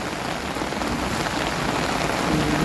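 Heavy storm rain pounds down in a dense, loud, unbroken roar, with water flowing strongly underneath.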